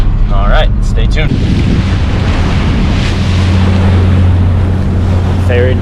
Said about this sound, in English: Ferry number 1 of 4 today.